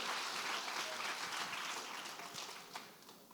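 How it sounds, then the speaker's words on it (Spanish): Audience gives a strong burst of applause welcoming a speaker to the stage at a church service, steady dense clapping for about three seconds that tapers slightly at the end. "Vamos a recibirle con un fuerte aplauso."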